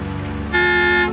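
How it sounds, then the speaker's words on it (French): A car horn sounds one long, steady blast partway through, loud and close over the rumble of a bus in traffic. "Klaxonnez."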